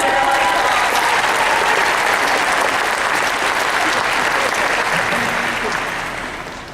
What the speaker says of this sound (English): Just give us a round of applause.